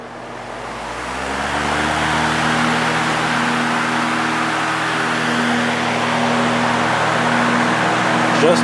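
Lakewood HV electric fan with a Westinghouse motor and oil ports, running on high: a steady, close motor hum with a rising whine as it spins up, then a constant airy whoosh throughout.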